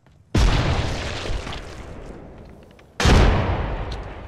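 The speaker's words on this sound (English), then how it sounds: "these guys are getting close with the nades" Two heavy grenade blasts in the Apex Legends shooter, each a sudden loud boom with a long rumbling decay, the second arriving about two and a half seconds after the first.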